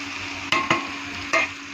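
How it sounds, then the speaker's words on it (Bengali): Eggplant goes into tomatoes frying in a pan, under a constant sizzle broken by three sharp scraping stirs. "এখন আমি ওর মধ্যে বেগুনটা ছেড়ে দিব।"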